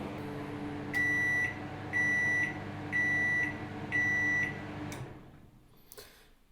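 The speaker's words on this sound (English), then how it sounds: "It makes 4 quite loud beeps" A Samsung MS23F302EAS microwave oven sounds four loud, evenly spaced electronic beeps over its steady running hum, which then cuts off, leaving a quiet room.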